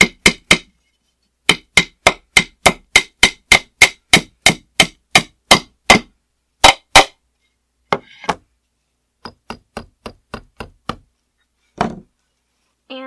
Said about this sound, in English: we'll hammer from the side.